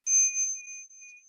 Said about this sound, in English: So as I tap the bell,